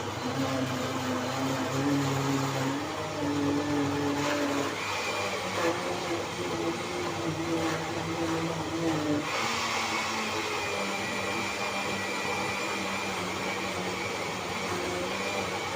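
A steady, loud motorized whir of a blender running continuously on carrots, apple and ginger, with its pitch shifting slightly as the load changes, no voices.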